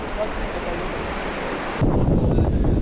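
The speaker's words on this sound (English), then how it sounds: "the wind's just come pumping through now" Strong wind gusts along a coast during a big swell, a loud roaring buffet against the microphone that surges suddenly partway through and stays heavy to the end.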